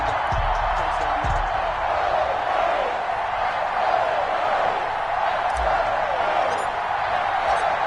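Stadium crowd noise from an EA Sports NFL video game, Philadelphia Eagles versus New York Giants, a steady broad roar held at an even level throughout, with a few low thumps near the start.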